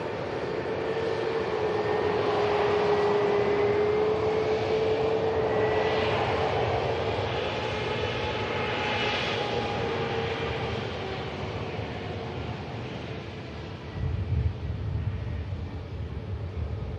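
An EasyJet airliner inbound from Gibraltar arrives at Manchester Airport, producing a loud, steady jet roar with a high engine whine that holds for the whole stretch and then thins slightly near the end.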